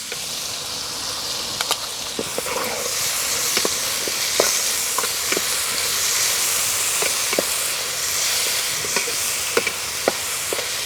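Masala paste hits a hot pan while cooking potato chicken, giving a bright steady sizzle and hiss with small irregular pops and ticks throughout, close and fairly loud, no talking.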